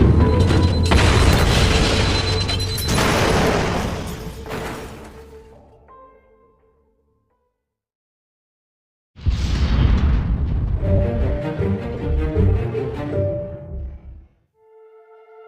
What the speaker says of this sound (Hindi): रोहिणी जेल के अंदर हुए एक जोरदार धमाके ने उन दोनों को पूरी तरह से चौंका दिया